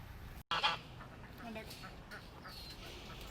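Backyard geese that graze the grass of an orchard and front yard give a loud, close honk after a brief silence, followed by softer honks and calls. Voices can be heard faintly in the background.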